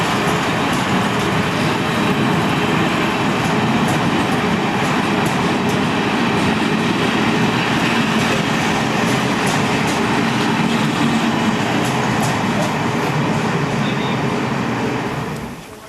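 A train rolls past a railway station platform in China, a loud continuous roar and rumble with faint rhythmic clatter, holding steady and near throughout before easing off at the very end.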